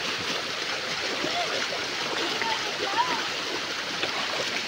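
A small creek swollen after rain rushes past in a steady broadband wash of flowing water, close and continuous, with faint voices murmuring underneath.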